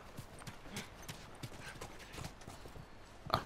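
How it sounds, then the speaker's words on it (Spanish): Horse hooves clip-clopping in The Last of Us video game, a steady run of close, moderately loud hoof beats throughout with no talk over them. "Vamos, de vuelta a los caballos."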